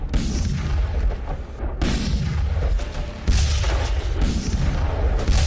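Heavy artillery fire from an SH-15 howitzer booms repeatedly, deep rumbling blasts rolling one into the next, loud and dense throughout.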